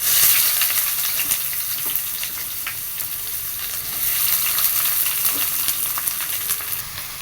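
Chopped onions and shallots fry in a pan for a coconut milk chicken curry, a loud, bright sizzle with crackles and light stirring, swelling midway and easing off toward the end, no talking.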